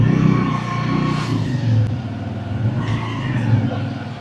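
A TVS Radeon motorcycle carrying four riders pulls along under load, its mid-pitched engine droning loud and close with steady revving and road rumble throughout.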